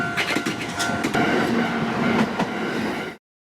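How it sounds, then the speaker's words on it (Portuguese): A train passes close by on a railway line in Japan, a loud rumbling roar with rattling wheel clatter that cuts off abruptly. "Tô aqui na linha do trem"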